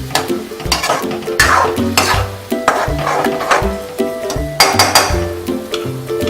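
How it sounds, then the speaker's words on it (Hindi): Spices being stirred and roasted in oil in a pan over a full flame, with steady sizzling under repeated scraping strokes of a spoon at a brisk, uneven rhythm, close and fairly loud. "इनको सूखने तक हमें पकाना है, बिल्कुल फुल फ्लेम करके। जलने नहीं चाहिए मसाले, अच्छे से भुनने चाहिए।"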